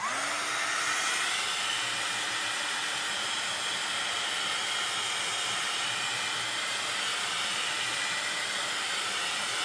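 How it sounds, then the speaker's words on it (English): A heat tool blows steadily to heat-set embossing on a handmade card, a loud, even airy roar that runs without a break from start to finish. "I just want to heat set this."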